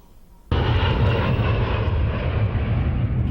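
An A-10 jet aircraft bursts in abruptly after a quiet moment, then holds a loud, dense, steady engine roar close by for the rest of the stretch, with no voices.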